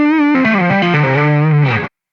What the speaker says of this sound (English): hammer-on pull-offs in the pentatonic scale legato type sounds